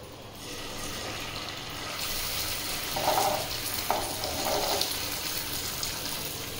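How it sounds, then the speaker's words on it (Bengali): Marinated chicken pieces, dropped into hot oil one at a time, deep-fry with a steady close hiss and a few brief louder bubbling swells as pieces go in, without speech. "একটা একটা করে দিয়ে ভেজে নেবো"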